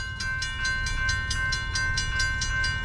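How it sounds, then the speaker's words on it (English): A railroad crossing alarm rings in a fast, steady run of repeated bell strikes, with a low background rumble beneath. "the crossing alarm went off."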